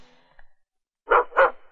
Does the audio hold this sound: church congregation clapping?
no